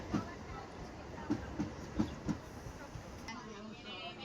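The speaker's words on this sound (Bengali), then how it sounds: "এই যে আমাদের ট্রেন চলে এসেছে।" A train pulling into a station at Kalna, heard fairly faintly as a few distinct wheel clanks and clicks over a low rumble, spaced irregularly and fading toward the end, with no clear talk.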